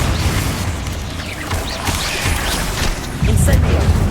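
Blasting-spell explosions from the Hogwarts Legacy video game land as heavy low booms in a continuous stream of combat noise, with a louder, thicker burst near the end.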